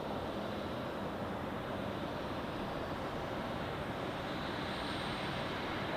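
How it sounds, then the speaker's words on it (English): An Edelweiss Airbus A340 at Zurich Airport gives off a faint, distant, steady jet roar, a broad wash of engine noise that holds evenly with no voices. "So that is the third Edelweiss A340 today"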